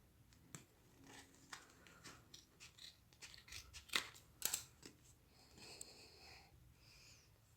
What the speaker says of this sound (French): Maintenant, je vais couper.